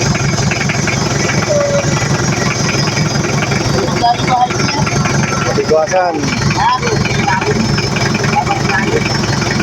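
A boat's diesel engine idles loudly and steadily with a low rhythmic throb, while a voice speaks briefly over it.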